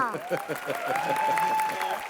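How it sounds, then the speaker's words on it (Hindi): Applause from the crowd at a stand-up comedy show spoofing an Indian music awards event, moderately loud and continuous, with a voice and a rising tonal sound overlapping the clapping. "जोरदार तालियां।"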